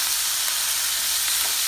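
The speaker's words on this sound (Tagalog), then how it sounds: "lagyan natin siya ng konting vinegar kasi puro siya" Fish for gourmet tinapa sizzles in a hot pan after a tablespoon of vinegar is added, a steady, dense hiss of frying that holds evenly throughout with no voices.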